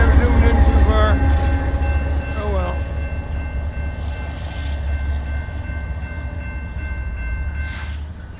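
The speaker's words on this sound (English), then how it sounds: "Two locomotives heading down to Powder River Basin, no doubt." Two freight locomotives rolling past on a rail line in Wyoming, a loud rumbling drone with a sustained horn-like tone, a brief squeal and metallic ringing, heard close over several seconds.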